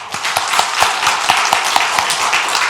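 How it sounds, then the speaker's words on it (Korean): A church congregation at a Korean Sunday worship service claps in encouragement, a dense, steady spread of hand claps with sharper individual slaps standing out at a fairly even pace throughout. "격려의 뜻으로 박수 한번 다시 한번 하겠습니다"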